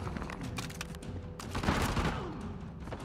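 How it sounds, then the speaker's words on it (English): Gunfire in Uncharted: The Lost Legacy, a volley of rapid shots and booms cracking in clusters with no speech, swelling louder toward the middle before fading slightly. "Who was just shooting me?"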